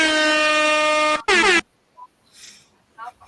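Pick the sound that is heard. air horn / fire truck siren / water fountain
air horn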